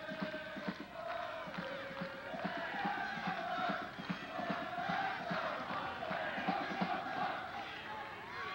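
Soccer supporters of the Toronto Blizzard at a 1989 semi-final in Hamilton make a sustained crowd roar of chanting and cheering, steady and distant, with a commentator's voice faintly mixed in.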